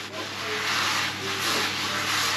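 Close, steady rubbing as a cloth wipes out a seasoned cast iron pan after pizza making, a continuous scrubbing swish with slight surges, heard alone.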